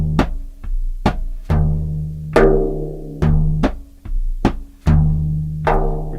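Frame drum struck with the right hand in the Maxum rhythm: a close, loud pattern of deep resonant bass strokes mixed with sharper slaps, repeating steadily in a lilting cycle with no voices.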